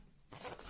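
Adhesive tape being peeled off an AliExpress parcel, a short rasping rip that starts abruptly after a brief quiet moment and carries on loudly for about half a second.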